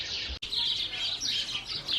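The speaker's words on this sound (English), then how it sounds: "Can you hear the bird sound, guys?" A bird chirps outdoors in a garden during a weeding day, giving bright, repeated high tweets that continue steadily over faint background noise.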